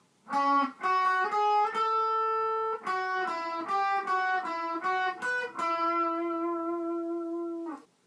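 Electric-sounding guitar playing a melodic passage from a battle theme of Pokemon Omega Ruby/Alpha Sapphire, a run of clear, close single notes with sustained tones, ending on a long held note.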